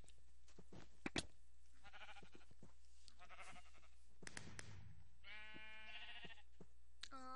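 Cartoonish sheep bleat repeatedly in a sheep-herding video game, a run of bleats near the end standing out over earlier clicks, pops and short game sounds, with no talk.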